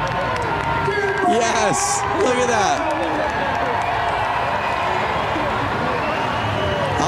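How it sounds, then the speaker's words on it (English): A packed crowd cheers at a Harley-Davidson flat track race, a broad steady roar with shouts rising over it, while a commentator speaks briefly at the start. "Packed house, the energy, everyone cheering you on."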